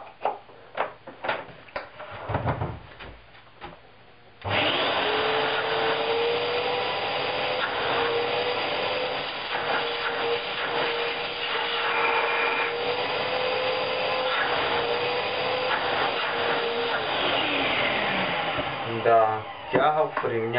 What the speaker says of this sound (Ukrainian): Пробуємо увімкнути наш пилосос.